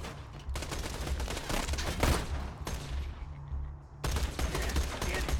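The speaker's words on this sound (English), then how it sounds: "What are you shooting at?" Sustained rapid gunfire in Borderlands 2, dense automatic bursts running almost without pause, loud and close, with a brief lull before a fresh burst near the end.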